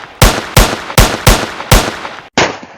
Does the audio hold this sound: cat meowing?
no